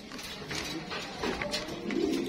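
Almond Tiger pigeons, a pair in a loft at a breeding farm, cooing in soft low rumbles that run continuously through the clip, close by, against busy background noise.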